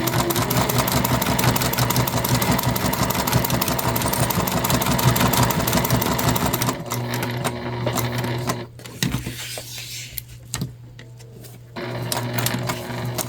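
A sewing machine stitches a beginner-friendly tropical Kindle sleeve in a fast, steady, loud run of stitches for several seconds. It then stops and restarts in short back-stitch bursts with small mechanical clicks.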